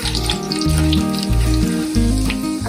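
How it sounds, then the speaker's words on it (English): Grated ginger sizzling in a pan over a low flame while being stirred for upma, a steady, soft crackle running beneath louder stepped background music. "just a teaspoon of grated ginger. Just stir it around so it cooks a little."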